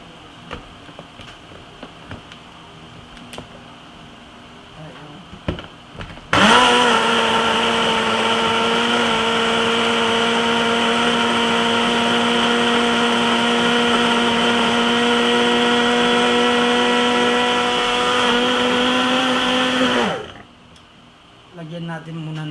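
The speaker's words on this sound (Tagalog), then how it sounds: "Ito yung blender ko, yung fruits and vegetable blender." A fruit and vegetable blender whirs loudly and steadily for about fourteen seconds, then cuts off, with quieter background sounds before and after.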